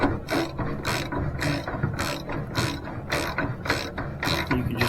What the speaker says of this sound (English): putting the bolt in with a socket wrench.